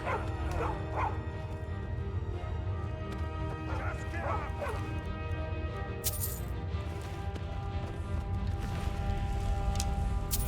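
A dog in the Skyrim video game barks and whimpers in a few short yelping bursts over a constant loud game background of ambience and hoofbeat-like clopping, with some sharp bright hits near the end.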